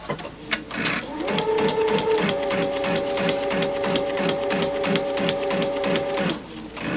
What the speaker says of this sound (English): I'm just explaining why you will see me doing back stitches